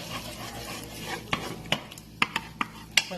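Chicken macaroni stirred in a pan, a spoon scraping and clinking against the metal in a string of sharp knocks over a soft sizzle.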